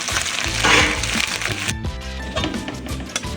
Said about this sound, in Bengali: মশলাটাকে কষানো হয়ে গেছে, এবার আমি চিংড়িগুলো দিয়ে দেবো।